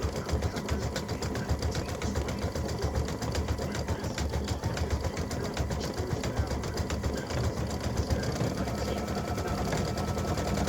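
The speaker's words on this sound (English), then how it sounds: "So it's going around now to do the satin stitching around that part of the ribbon" An embroidery sewing machine satin-stitching around a ribbon design for awareness ribbon earrings runs steadily and close, a fast even needle chatter with a low motor hum throughout.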